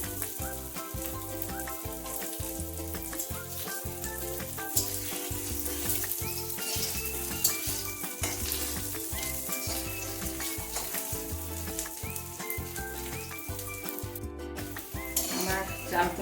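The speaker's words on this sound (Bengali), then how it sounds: "আমার চাল কুমড়োর বড়া হয়ে গেছে ভাজা" Ash gourd and ground rice fritters sizzle and fry in hot oil in a pan, a steady crackling hiss close by with occasional clinks, while a person talks and background music plays.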